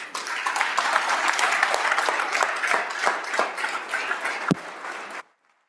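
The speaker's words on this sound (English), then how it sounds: "please stand and give a round of applause to the families" Members on a state House floor during a session give a standing round of applause for families, a dense, steady clapping from the chamber that holds for about five seconds and then cuts off abruptly.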